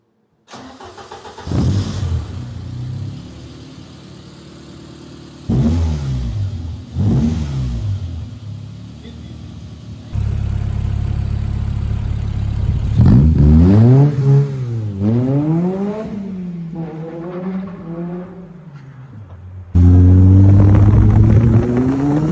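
A restored Renault RCB car engine cranks and catches several times, then revs up and down in rising and falling sweeps, loud and close, with no talking.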